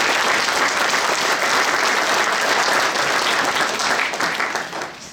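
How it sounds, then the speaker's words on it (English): Sustained applause from a sizeable audience at an elementary school play, dense and steady clapping that begins to fade toward the end. "If we could give them a round of applause"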